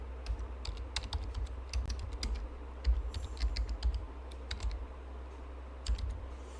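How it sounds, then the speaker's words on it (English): Keyboard keys tapped in quick irregular bursts while a search term for type 2 diabetes is entered into a disease-classification lookup, close and clear over a steady low hum, with no talking. "So I just type in type 2 diabetes."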